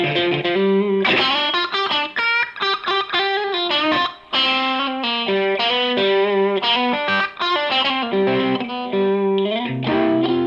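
An electric guitar with pickups voiced for a honky midrange tone plays a continuous, loud run of bluesy notes and chords with light distortion and chorus, alone with no talking.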